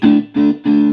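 Electric guitar played through a Marshall 15R combo amp with a distorted, overdriven tone, three loud chords strummed in quick succession, each ringing briefly before the next.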